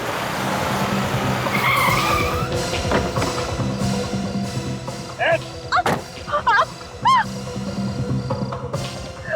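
A car skids to a stop with a long tire screech, followed by sharp impacts and chirping squeals in a busy, loud scene with background voices.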